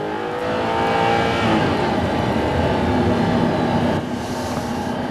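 A 2008 Audi R8 engine pulls hard under acceleration, a loud, steady roar with a brief drop near the end as a paddle-shifted gear change cuts in.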